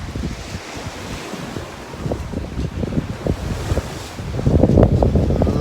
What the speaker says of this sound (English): Got about 16-17 knots of wind.